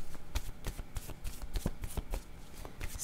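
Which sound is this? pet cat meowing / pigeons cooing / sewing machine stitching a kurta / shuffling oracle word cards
shuffling oracle word cards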